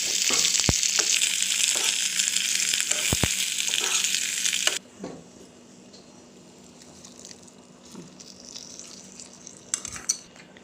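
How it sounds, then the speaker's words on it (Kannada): Chopped onions frying in a hot mustard-seed tempering for raw banana sambar, a loud dense sizzle with metal clinks from stirring that abruptly drops to a softer crackle and occasional scrapes. "ಹೆಚ್ಚಿರ್ತಿದ್ವಲ್ಲ ಆವಾಗಲೇ ಅಲ್ಲಿ ಹಾಕಿ ಸ್ವಲ್ಪ ಫ್ರೈ ಮಾಡಿ ಒಗ್ಗರಣೆ ಹಾಕ್ತೀನಿ"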